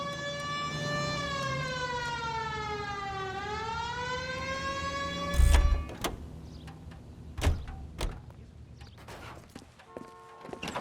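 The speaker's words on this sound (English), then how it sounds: "Hit the siren." Police car siren from the LA Noire video game, a loud wailing tone rising and falling through the first half, then cut off by heavy thumps and clatter amid background noise.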